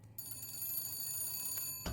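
A telephone rings in the video game BioShock Infinite, giving a sustained, bright bell-like trill that sounds faint and steady, then cuts off abruptly at the end with no talking.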